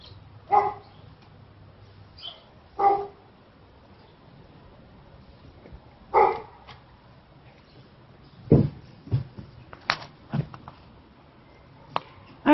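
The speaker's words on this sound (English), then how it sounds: "I might take a walk out my back fence so you can hear that dog." A neighbour's dog barks at a distance across a backyard, a few sharp separate woofs spaced several seconds apart and then a quicker cluster of barks, faint against a quiet outdoor background.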